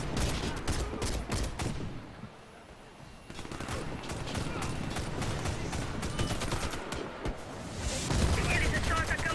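Bursts of rapid gunfire crackle through a survival shooter video game, with dense fusillades and booms in a heavy, continuous battle mix while a player talks over the action.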